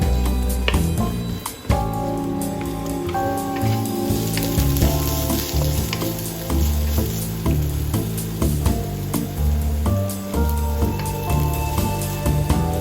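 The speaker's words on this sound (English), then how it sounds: "Stir-fry onion slices until translucent." Onion slices stir-frying in a pan for bok choy, a steady sizzle running throughout under a prominent musical backdrop, with faint stirring ticks.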